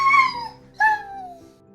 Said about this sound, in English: A puppy.